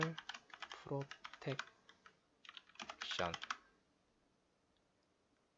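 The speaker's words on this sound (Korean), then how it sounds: "일단 그대로 쳐볼게요" Computer keyboard typing while entering text in Photoshop, a quick run of close clicks in two bursts, with someone speaking Korean over it.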